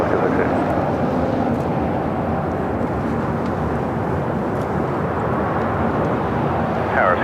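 A steady, broad jet engine roar from an Alaska airliner landing on runway 25 left at LAX holds evenly, moderately loud and distant, with no talk.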